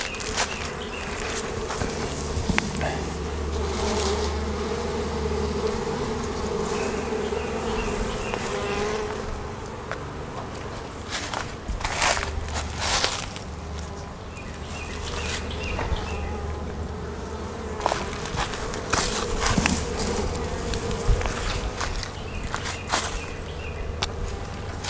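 A honey bee swarm shaken out in front of a hive buzzes loudly and steadily the whole time, a dense close drone with scattered thumps and movement.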